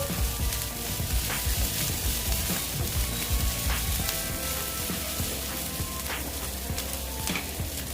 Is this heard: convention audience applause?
no